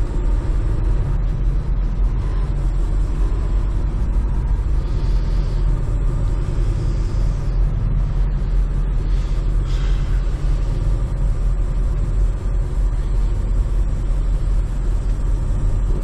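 A semi truck hauling a trailer pulls out of a truck stop, its engine a loud, steady low rumble heard from inside the cab, continuous and unbroken with a faint whir on top.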